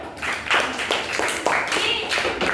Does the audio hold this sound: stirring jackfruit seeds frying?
no